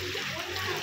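Floodwater sloshes and splashes through a flooded street during heavy rain and thunderstorms, a short, dense, close wash of moving water.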